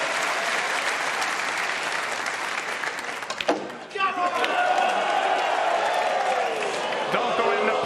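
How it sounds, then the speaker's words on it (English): Snooker crowd applauding and cheering after a final, a steady loud roar of clapping across the hall with whoops, briefly dipping before swelling again; faint voices mix in. "And listen to the crowd here."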